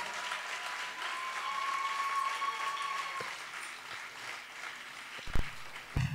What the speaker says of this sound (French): Mais les derniers, ils ont besoin des applaudissements aussi